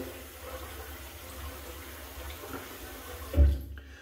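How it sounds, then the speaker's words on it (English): Water runs from a tap in a steady, fairly quiet stream, with a brief louder splash or clunk near the end. "Tap with water, not a lot of water here."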